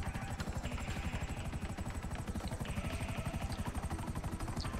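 Rival helicopters approaching in GTA 5 Online, a loud, steady rotor chop with rapid even blade thumps and a high turbine whine, continuous throughout with no speech.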